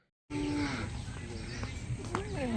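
A cow moos loudly and close by at a temple near the Yamuna River, a long low call with a second shorter moo near the end, over outdoor background noise.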